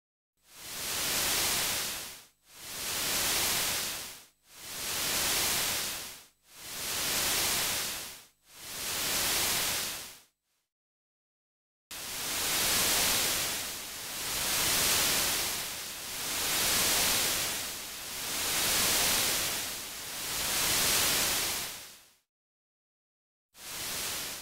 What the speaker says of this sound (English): listen to the white noise shaped by the oscillator using different settings